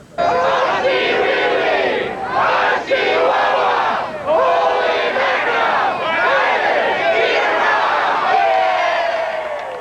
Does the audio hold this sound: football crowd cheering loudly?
yes